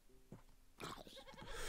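Goat in modded Minecraft giving a couple of short, nasal bleats, fairly faint, followed by louder game noise and a brief burst of activity.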